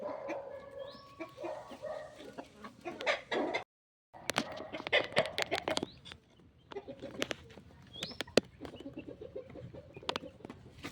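Hens pecking at green fodder, with scattered sharp clucks and short pecking sounds, a rooster-like call and occasional barking in the background, one brief silent gap midway.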